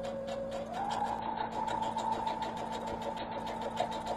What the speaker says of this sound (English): So we're going to sew right along our line that we've drawn.